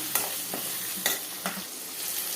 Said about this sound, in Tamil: இதோ பாருங்கள் வெங்காயம் நல்லா வதங்கிடுச்சு